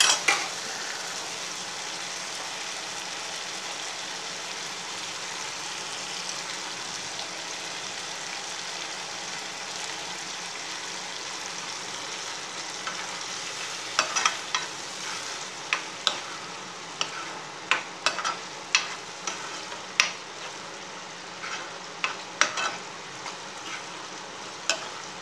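Tomato with soy sauce frying in a pan, with a steady loud sizzle throughout and repeated scraping, clinking stirs growing more frequent in the second half.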